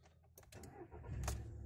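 A car engine is cranked and starts up close by, with faint clicks and key rattles before the motor catches and settles into a low steady rumble, with no talking.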